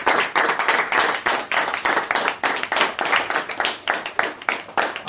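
An audience claps in rhythmic bursts, loud and close with short regular gaps, the claps quickening and then settling into a steady beat.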